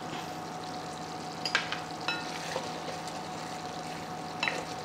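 Mushrooms sizzle in a pan as chili powder and curry leaves are added, a steady close frying hiss broken by a few sharp spatters and stirring scrapes.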